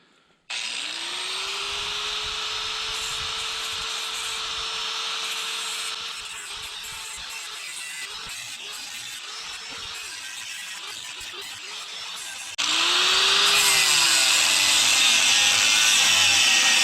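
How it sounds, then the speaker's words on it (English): A grinder cuts metal on a 1940s Chevy trailer during disassembly, a loud, close, continuous whine with rising and falling pitch as the disc bites, pausing briefly and then resuming louder near the end. "I gotta grab the grinder for that."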